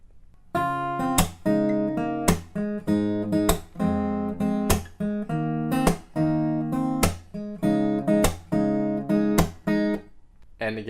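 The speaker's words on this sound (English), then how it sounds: "Chorus riff 2 sounds something like this." Chorus riff 2 of a song on acoustic guitar: rhythmic strummed chords punctuated by crisp percussive string slaps, repeating in an even groove, played up close with no talking.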